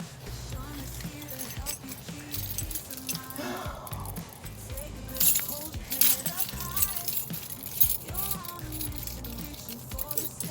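A set of keys jangles in a home, giving brief metallic clinks and rattles that come and go among background shuffling and faint voices.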